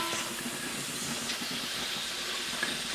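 Shrimp and pea pods cook in a hot pan with a steady, even hiss and sizzle throughout. It sounds close and constant with no speech over it.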